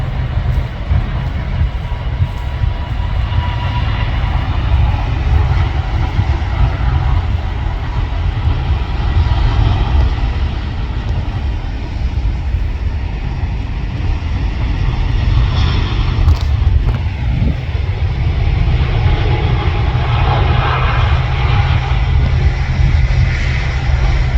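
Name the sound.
Airbus A350 airliner taking off, jet engines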